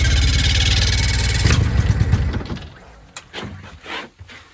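A boat engine with a manual choke, unused for a while, runs with a loud, steady rumble for about a second and a half. Then it sputters and dies away, followed by a few scattered knocks and clunks.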